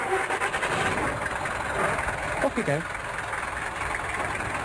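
A taxi engine idles in a low, steady rumble, with a brief rising burst partway through as it catches or revs, while a voice speaks briefly over it.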